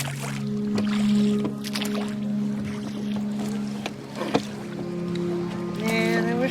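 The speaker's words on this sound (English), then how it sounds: "I'm rowing slowly for scenic value." Oars working a small rowboat at an unhurried pace, soft splashes and knocks against a steady wind and water backdrop, with a voice speaking over the rowing.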